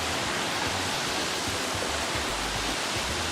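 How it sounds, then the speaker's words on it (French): Etcha waterfall in Iwassi village, Amou prefecture, Togo, pours with a loud, continuous hissing roar of falling water that fills the whole scene without a break. "La cascade aux chutes spectaculaires, symbole d'espoir et de beauté."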